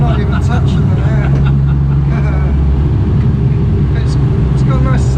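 A Jagermeister-liveried BMW E36 M3 road and race car engine drones steadily at close range from inside the cabin, a low even resonance that holds throughout, with people talking over it.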